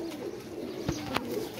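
Flight pigeons coo softly nearby in a loft, a low continuous burbling murmur broken by a couple of brief sharp knocks or wing flaps.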